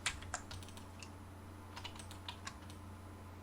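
Quiet keystrokes on a computer keyboard while entering values in AutoCAD, a handful of light, irregular clicks close by, with no speech.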